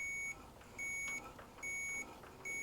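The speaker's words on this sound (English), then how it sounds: "And if I'm lucky, we'll hear a beep." An electronic tester beeps while the ignition points on a homemade Briggs & Stratton mini farm tractor are checked, giving three steady, evenly spaced tones of moderate loudness with no talking.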